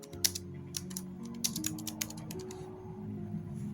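Keys clack in quick irregular bursts as text is typed on a computer keyboard for a Blender 4.2 text edit, sharp taps close by over a steady low background hum.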